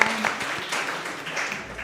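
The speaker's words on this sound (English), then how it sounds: "So a round of applause" A live audience claps together at the close of a conference panel session in a hall, a brief, steady patter of applause with a voice faintly underneath.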